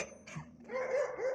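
A stray city dog barks in a street setting where dogs are squaring up to fight; the bark is brief, fairly faint and somewhat distant.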